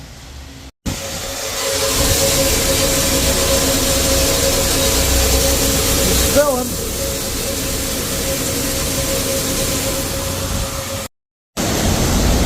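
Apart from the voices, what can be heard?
grain dryer starting up, fan running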